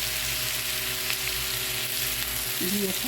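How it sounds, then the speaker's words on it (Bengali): Tomatoes fry with onions, potatoes and carrots in a pan for a Bengali aloo bhaji. A loud, steady sizzle fills the whole clip, with a few stirring scrapes, and someone briefly speaks over it. "পেঁয়াজের সাথে ভালো করে ভেজে নিই"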